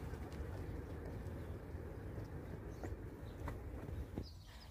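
A steady low rumble of a train passing at a distance near ancient aqueducts in Rome's Park of the Aqueducts, continuous and fairly faint, with a few light outdoor sounds above it.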